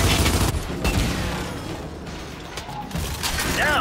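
Gunfire from a gun in the Gears 5 video game, a dense burst of shots and mechanical clatter over layered game sound, with a brief voice heard partway through.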